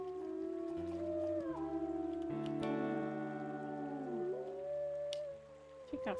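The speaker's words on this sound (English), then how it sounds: "Kayla howling right next to us." The wolf Kayla howls right nearby in WolfQuest alongside other wolves, sustained sliding howls that overlap and fade, close and loud over steady game music.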